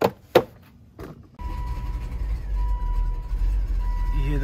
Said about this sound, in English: You hear the motors not liking the new mass airflow sensor